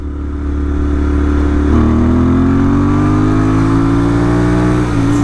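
Royal Enfield Interceptor 650 fitted with an S&S camshaft revs hard through the gears, a loud close buzzy twin-cylinder drone climbing in pitch, dipping briefly at a shift, then rising again.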